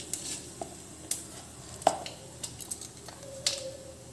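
Cumin and mustard seeds in hot oil in a kadai give a soft, low crackling sizzle, punctuated by sharp clinks and taps of a spoon against the pan.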